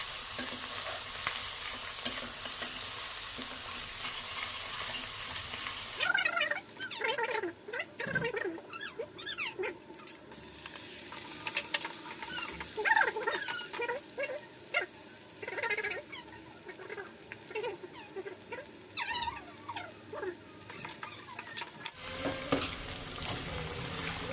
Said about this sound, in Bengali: আর লঙ্কাগুলো দিয়ে এটাকে ভালো করে ভেজে নেব।